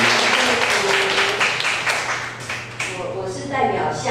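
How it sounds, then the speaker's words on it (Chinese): An audience claps to welcome a speaker at a church gathering, a burst of close, busy applause that thins out toward the end while a voice talks over it. "今天我们拍掌欢迎辛苦"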